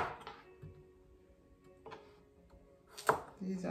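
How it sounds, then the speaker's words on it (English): A knife cuts through a tomato on a board for a Jamaican-style cucumber and tomato salad, giving a few sparse soft chops and then one sharper, louder knock near the end, in a quiet kitchen. "Now I'm gonna cut up my tomato."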